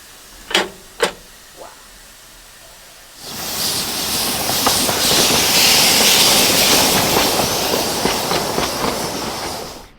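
Narrow gauge steam train on the Środa County railway, starting with a few sharp clanks, then a sudden loud hissing, rumbling roll with rhythmic rail clicks that holds steady to the end.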